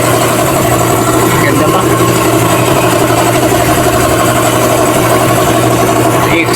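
Steady idling drone from the exhaust of an MG ZS car during an oil change and check-up at a service station, continuous and close, with a brief spoken voice over it.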